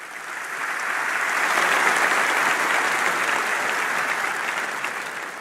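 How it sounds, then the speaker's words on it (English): Broad, even applause from a large keynote audience at Microsoft Ignite, swelling and fading gently over several seconds with no speech on top. "How about a round of applause for Jackie and Seth?"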